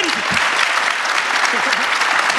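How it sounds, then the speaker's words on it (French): A live audience at a podcast recording applauds the hosts, loud dense clapping throughout with voices speaking over it. "Vous pouvez les applaudir"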